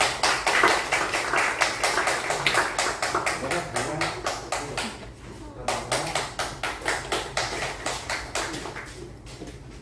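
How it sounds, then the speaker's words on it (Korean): A church congregation claps in unison to celebrate a young member's birthday, with loud, regular rhythmic beats that stay steady, soften briefly partway through, then pick up again and fade toward the end. "축하합니다. 박수 주시고요."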